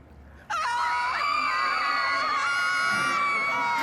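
Cartoon screaming bursts in suddenly and loudly after a quiet moment, a sustained high shrill wail that holds steady for several seconds without a break.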